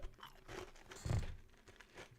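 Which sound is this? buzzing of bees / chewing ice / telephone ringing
chewing ice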